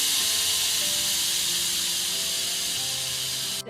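Pressure cooker with tomatoes and garlic inside hissing out steam, a loud steady rushing hiss lasting a few seconds before cutting off abruptly, no talking.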